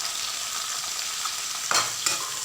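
Ridge gourd sautéing with onions in a pan for a carrot chutney gives a steady, close sizzle, broken near the end by two short stirring scrapes.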